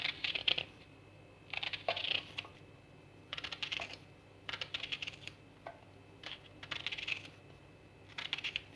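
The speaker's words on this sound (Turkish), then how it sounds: "Öncelikle tepsime soğanlarımı halka halka kesiyorum." A knife cuts onions into rings on a tray in a Turkish kitchen, making repeated short crisp chopping taps in quick bursts with brief pauses between, close and fairly quiet, with no talking.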